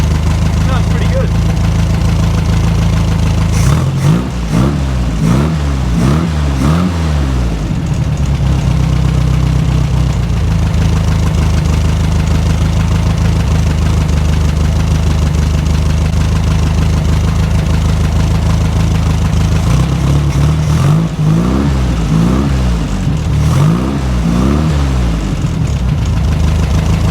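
A 1963 VW single cab engine idles off choke with a steady low rumble, rising twice into short bursts of revving before settling back to idle, and a voice talks intermittently over it.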